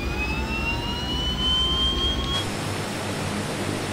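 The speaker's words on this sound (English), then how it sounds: "let's start the left engine" The left engine of a de Havilland Twin Otter spins up in Microsoft Flight Simulator 2020, a steady loud turbine whine with a rising tone that then cuts to a broad, even roar.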